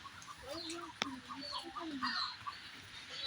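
Ducks or other farm fowl call repeatedly at close range in a short series of clucking, quacking notes, with one sharp click partway through and faint voices in the background.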